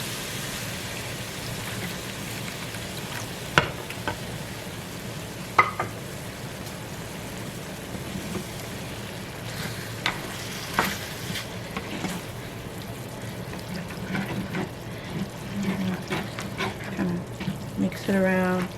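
Beef stock poured and stirred into shepherd's pie filling in a pan, a steady wet sizzle and bubbling hiss with occasional spoon scrapes and clinks against the pan throughout.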